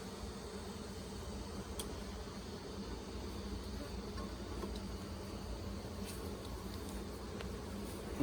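Honey bees buzz steadily around hive frames pulled during a split, a dense continuous hum that stays even throughout with no voices.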